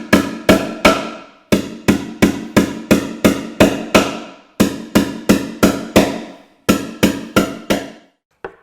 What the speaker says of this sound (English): So I'm going to sink these nails